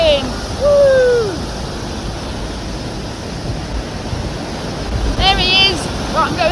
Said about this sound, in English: Look how fast the river's flowing.